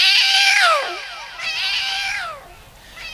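A voice imitates a cat's drawn-out meow twice during a comedy routine. Each yowl is loud, close and falling in pitch, with a short pause between the two.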